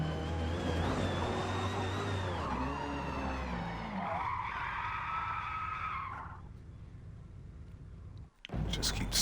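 A car slides and skids in Forza Motorsport, tires squealing in a long, wavering screech over the engine drone. Someone talks over it, then it cuts off briefly before resuming.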